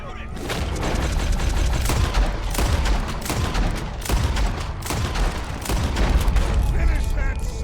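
Rapid bursts of gunfire ring out in a Red Dead Redemption 2 shootout, loud repeated cracks in uneven volleys amid shouting voices.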